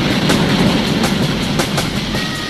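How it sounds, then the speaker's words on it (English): A Southern Pacific locomotive, number 687, on a routine run, its wheels and cars giving a steady, loud rumble with faint clatter throughout, no voices. "Southern Pacific 687 is on a routine run."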